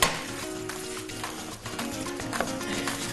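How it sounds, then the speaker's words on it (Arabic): Butter and flour being stirred together in a cooking pan on a kitchen stove, a steady scraping and soft sizzling that runs continuously and fairly close for about three seconds, with no talking. "هقلب كويس جدا الزبدة والدقيق"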